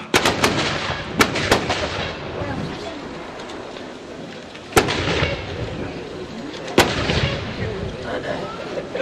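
A cannon fires at a historical battle reenactment: a few sharp blasts ring out over a constant rumble of crowd and outdoor noise.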